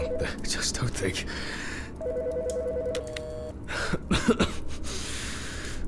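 Telephone keypad tones in the autopsy video game Autopsy Simulator, a short run of steady beeps from one number being dialed, heard under low background sound with a cough and breathy noises around it.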